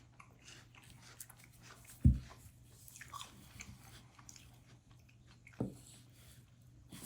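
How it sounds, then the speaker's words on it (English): Crunchy apple being bitten and chewed close up, with two sharp crisp bites several seconds apart and soft chewing in between, no talking. "Really, really crunchy. I really like this apple."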